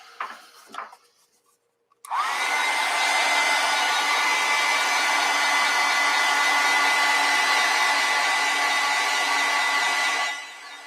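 A hair dryer blows steadily on wet acrylic paint for about eight seconds, a loud continuous whoosh that starts abruptly after a few faint handling clicks and ends with a slight drop.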